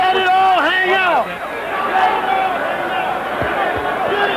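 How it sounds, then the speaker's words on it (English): A boxing arena crowd at the WBC heavyweight title fight between Larry Holmes and Michael Spinks roars and chants in support of Spinks. The voices are loud and sustained, with rising shouts mixed into the steady crowd noise. "Cheers coming from this crowd in support of Michael Spinks."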